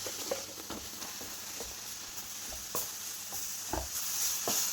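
Mango puree being stirred into coconut fried in a pan for mango ladoo, a soft steady sizzle under a few brief scraping and tapping strokes from the spoon, close and fairly quiet.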